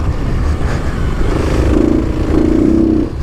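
A Kawasaki KLX300 dirt bike rides across open sandy desert trails, its engine droning steadily and rising in pitch at speed, with loud wind rush and rattle throughout and no talking.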